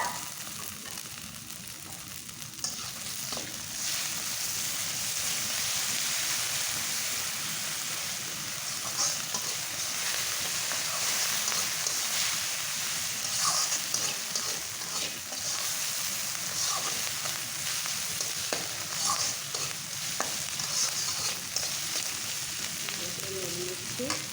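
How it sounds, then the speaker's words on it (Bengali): Garlic, ginger and cumin pastes being stirred in a frying pan, a long, even sizzle with light scraping strokes of the spatula at a moderate level. "1 চামচ রসুন বাটা, 1/2 চামচ আদা বাটা, 1 চামচ জিরে বাটা দিয়ে ভালো করে নেড়ে নেব।"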